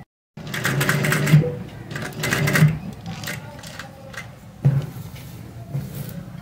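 A sewing machine stitches the neckline of a kurti in short close bursts of rapid stitching separated by brief pauses, while a person talks over it.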